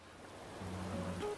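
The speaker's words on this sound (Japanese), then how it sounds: "今日は雨だけどちょっと雨強めかな。" Heavy rain falling in the video game Animal Crossing New Horizons, a steady soft hiss of downpour with a faint low tonal hum from the game beneath it, brief and fairly quiet.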